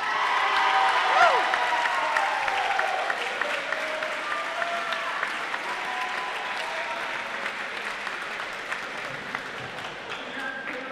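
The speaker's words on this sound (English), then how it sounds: "Let's give a big round of applause to Caleb Brannick" A crowd at a provincial high school hockey championship breaks into sustained clapping for a player, loud and dense at first, then thinning slightly while a voice is heard underneath.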